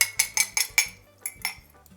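A fork stirring dough of ice water, vinegar, egg and flour in a bowl, a quick run of sharp metallic clinks against the bowl, then a pause and a few more taps.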